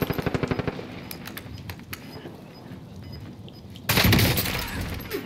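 Gunfire in a Warzone match opens with a fast, evenly spaced burst of automatic shots, scattered single cracks follow, then a loud sustained volley breaks out near the end, with no talking.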